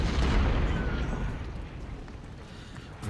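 A cannon boom from Civil War artillery in the strategy game Ultimate General: Civil War opens loud and rumbling, then decays into a fading low roll over about three seconds, with no talking.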